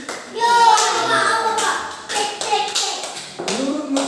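Sharp taps and knocks sound in a primary school classroom, several quick raps in an uneven rhythm, near and fairly loud. Children's voices murmur under and between the knocks.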